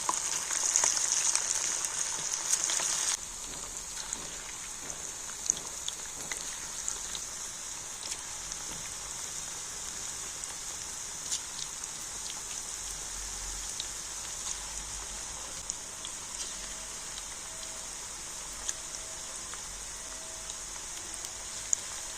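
Chicken pieces frying in hot oil in a frying pan, a steady dense sizzle and crackle running throughout, louder for the first few seconds, with occasional soft pops and no talking.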